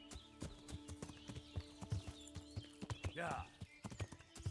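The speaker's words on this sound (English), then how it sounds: "we got our horse, guys." Hooves of a horse in a video game clip-clop in a quick, steady rhythm close up, with a whinny partway through, while players talk over the gallop.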